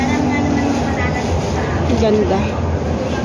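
A train bound for China rumbles along with a steady, loud roar and hiss throughout, while people talk faintly over the continuous noise.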